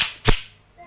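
A KWC M1911 Classic airgun pistol fires a single sharp, loud report close by, followed by a brief fading tail.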